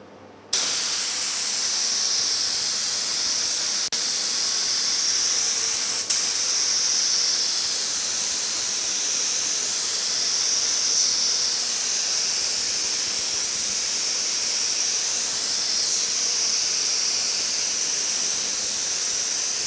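Spray gun laying a second coat of paint on the hood of a 1950 Chevy truck, a steady close hiss running unbroken for the whole stretch with no talk.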